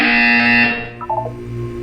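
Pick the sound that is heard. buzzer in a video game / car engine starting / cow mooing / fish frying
buzzer in a video game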